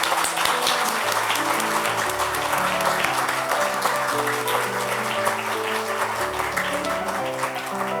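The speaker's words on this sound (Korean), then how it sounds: "박수 부탁드립니다." Steady audience applause at the 2022 Byeoksan Arts Awards ceremony as the foundation's officers stand for recognition, with a sustained musical tone running underneath the dense clapping throughout.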